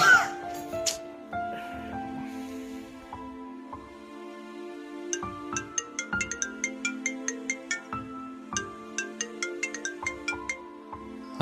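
A mobile phone ringtone plays a bright electronic melody that repeats. A run of quick staccato beeps marks the second half. It is steady and fairly loud, with no talking over it.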